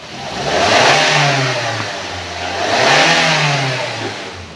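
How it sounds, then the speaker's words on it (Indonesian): A 2017 Daihatsu Granmax 1.3 pickup truck engine revs up twice in a row, rising and falling in pitch with a steady, smooth rumble, fairly close and loud, with no talking. "kita naikkan RPM-nya pun dia suaranya masih halus"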